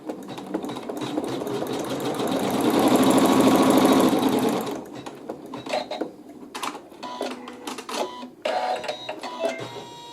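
A sewing machine stitching a quilt seam, a fast rattling mechanical whir that runs for several seconds and stops, then soft handling, clicks and fabric rustle.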